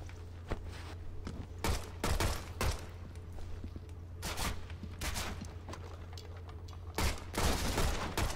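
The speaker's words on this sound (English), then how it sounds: "I'm gonna try to shoot that robot" Repeated bursts of gunfire from the video game Shadow Complex as a player shoots at a robot, loud sharp volleys clustered into several salvos over a steady low game hum.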